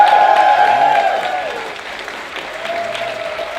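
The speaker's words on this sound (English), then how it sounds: "Let's get a big round of applause for all of them." Crowd applause for the winners of a 2018 cosplay contest at a fan convention, a continuous patter of clapping blended with sustained tones and some voices, easing slightly partway through.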